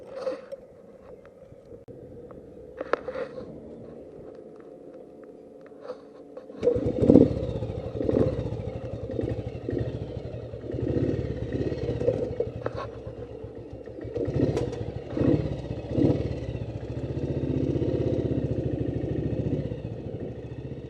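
Classic BSA C15 single-cylinder motorcycle on a country road ride, quiet idle at first, then the engine runs steadily with revving and mechanical clatter, close and fairly loud.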